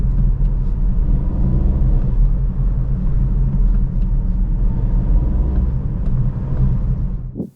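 A car engine pulls hard at high revs under harsh acceleration, a steady loud droning rumble heard from inside that holds for several seconds and then drops away at the end.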